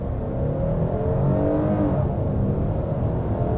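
A 2025 Hyundai Palisade Calligraphy AWD SUV accelerates hard from a stop, its engine droning and rising steadily, heard from inside the cabin.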